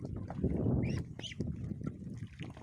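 Ducks quack and chatter nearby in a loose, overlapping flock, with a few higher calls breaking through the steady murmur.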